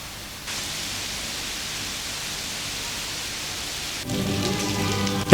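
Tropical rain falls in the cloister of San Francisco in Ecuador as a steady, even hiss that fills the space, with faint tonal sounds joining in over the last second.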